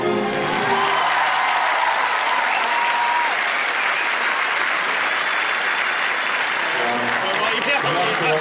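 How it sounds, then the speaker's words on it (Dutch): Standing ovation from the crowd at a dressage competition at CHIO Rotterdam, a dense, steady roar of clapping sustained for the whole stretch, with a commentator's voice talking over it. "Ankie van Gunsven, een staande ovatie"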